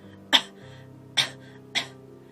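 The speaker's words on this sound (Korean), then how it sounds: "희미하게 기침 소리가." Three short coughs, spaced unevenly over a couple of seconds against a quiet, humming background.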